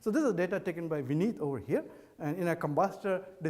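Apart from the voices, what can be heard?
No everyday noises stand out.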